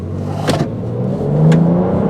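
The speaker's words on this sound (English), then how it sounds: "There goes the turbo spooling up." A 2013 BMW X5 turbo engine pulls hard under acceleration, its tone climbing steadily as the turbo spools up to high revs, loud and close with a couple of brief sharp hisses.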